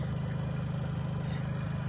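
The engine of a Solis 26 Xtra mini tractor idles nearby, a steady low rhythmic diesel chug with a constant hum and no talking.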